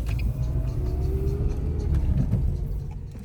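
A car drives slowly through the cobbled old town of Kłodzko, its engine and tyres producing a steady close rumble throughout, with no talking.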